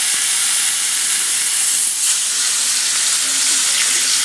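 Sirloin cap beef sears in a cast iron pan with a steady, loud, close hiss and sizzle that holds unbroken throughout, with no talking.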